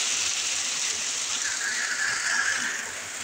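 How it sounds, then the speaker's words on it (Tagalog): Heavy rain with big drops pours down in a steady, loud hiss that stays constant throughout. "Ayan, ang lalaki pa ng patak ng ulan."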